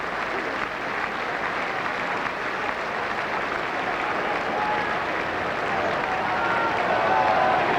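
Steady, broad applause from the Bristol home crowd at a 1995 rugby match against Leicester, a sustained wash of many hands that swells slightly toward the end, with a commentator's voice faintly beneath.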